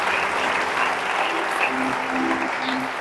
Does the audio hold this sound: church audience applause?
yes